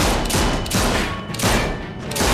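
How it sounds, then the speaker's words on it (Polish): Loud, heavy gunfire rings out in the video game The Walking Dead: A New Frontier, a rapid run of booming shots with echoing tails that fill the whole clip. "Davida strzela"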